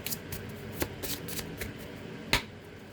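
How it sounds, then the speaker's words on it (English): Tarot cards are shuffled up close with several crisp riffles and sharp snaps, irregularly spaced, quiet overall with one louder slap near the end. "I want to get a good shuffle"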